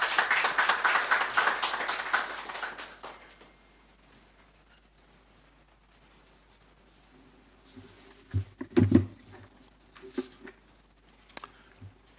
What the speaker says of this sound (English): Sir, we please welcome him with a round of applause.